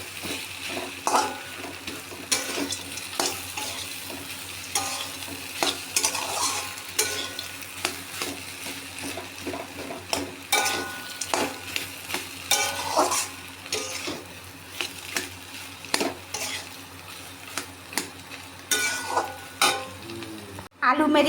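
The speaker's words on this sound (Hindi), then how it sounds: "आलू मेरी भून गई है," Potatoes frying with chili flakes in a pan, a steady close sizzle broken by repeated scraping and clinking stirs of a utensil against the pan, with a faint voice now and then.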